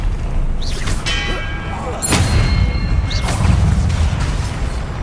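Spell-casting in Hogwarts Legacy gameplay: a sequence of magical whooshes and shimmering tones punctuated by heavy booming impacts and crashes, loud and close, with a voice calling out during the action.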